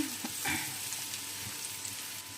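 Large green onion leaves fry in melted margarine with a steady, moderate sizzle and a few soft stirring clicks, with no voices.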